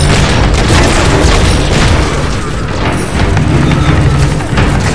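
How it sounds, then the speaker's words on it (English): Drop pods crashing down in the Halo 4 video game, a loud sustained rumble of booming impacts and thuds with heavy crashing bursts throughout. "Heads up, drop pods in."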